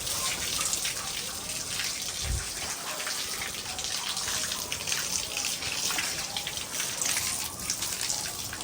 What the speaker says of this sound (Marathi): इकडच्या बाजूला आता थोडंसं पाणी मारून घेते मी